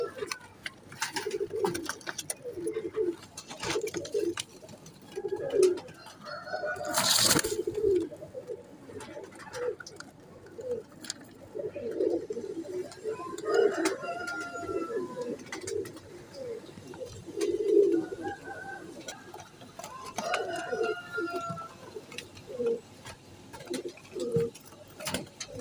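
A salary teddy pigeon with leg rings cooing repeatedly, soft low rolling coos in a steady rhythm at close range, with faint background rustle and one sharp brief noise partway through.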